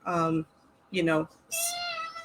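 A cat meows three times, loud and near, with short evenly spaced cries, the last one higher and more strained, with quiet background between.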